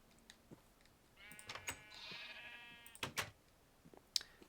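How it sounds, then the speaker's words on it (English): A sheep bleats in a long wavering cry in Minecraft, with scattered clicks and short bursts before and after, fairly faint overall. "They're just so noisy. It's great. All their bleating."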